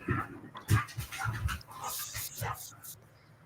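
Dogs pant in quick, ragged bursts close by, with a few whimpery breaths mixed in, loudest near the start and easing toward the end; no one speaks.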